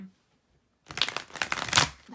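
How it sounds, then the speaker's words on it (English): Tarot cards are shuffled on a desk: after a near-silent pause, a sudden close burst of riffling, flapping and crinkling begins and rises in a few quick waves. "I'm trying to be super quiet shuffling on desk just because it's so loud and it shakes the camera"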